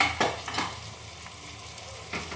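Spices stirred into mashed boiled potato in a pan for aloo bharta, giving a few soft scraping strokes near the start and end over a faint steady background, with no voices.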